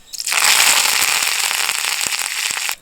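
Mustard seeds, fenugreek and curry leaves hit hot oil in a pan and burst into a loud, dense crackle and sizzle, close up, lasting a few seconds before cutting off, with no talking.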